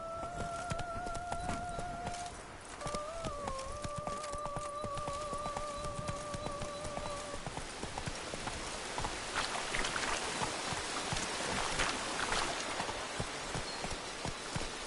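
Roach the horse gallops in The Witcher 3 in rapid clip-clop hoofbeats, with a steady rain-like hiss over a background music line; no one speaks.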